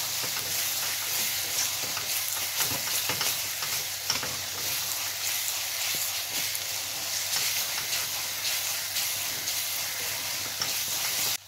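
Cumin, coriander and Kashmiri red chili powder fry in hot oil for shahi paneer, a dense, continuous close sizzle broken by scraping stirs and soft crackles, with no talking.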